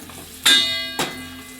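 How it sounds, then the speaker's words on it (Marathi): Three or four dried red chillies are dropped into hot oil for a moong dal tomato amti, making two sudden close bursts of sizzling that fade into a soft crackle. "सुकी लाल मिरची तीन चार नग घ्यायच्यात परतून घेऊया"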